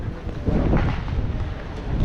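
Strong wind on Maspalomas Beach, Gran Canaria, buffets the microphone in a steady, roaring rumble with gusts that swell and ease, no voices.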